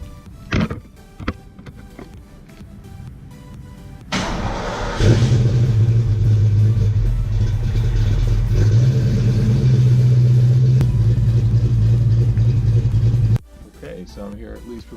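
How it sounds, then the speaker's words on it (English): A Foxbody Ford Mustang cold start: a brief crank gives way to a loud, rumbling idle that runs steadily for several seconds before cutting off abruptly. Short voices are heard before and after it. "So we got a cold start coming for you right now."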